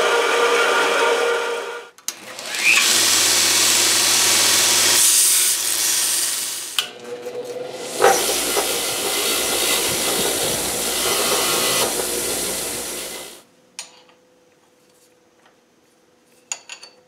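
A power tool cuts off a nut on a direct mount knurling tool setup, a loud, harsh grinding whine in two long bursts with a short break between, then quiet handling noises.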